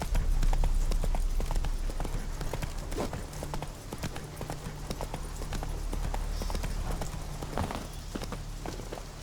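Hooves of Roach, Geralt's horse in The Witcher 3 game, clip-clopping at a walk: steady close hoofbeats over a low ambient bed, with no talking.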